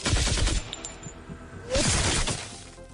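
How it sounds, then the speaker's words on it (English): An autocannon hammers away at a Void Stalker in a sci-fi tabletop battle, loud rapid bursts with shattering crashes, a first volley then a second burst after a short lull, no talk. "Clara fires her autocannon at the Void Stalker."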